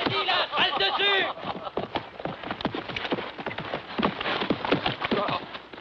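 Rapid clip-clop of horse hooves on a hard surface, a busy irregular patter lasting throughout, with a voice briefly heard at the start.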